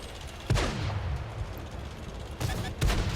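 Tank cannon fire from World of Tanks, a T-44A, booms out in a few heavy reports, one early and two close together near the end, over a low battlefield rumble.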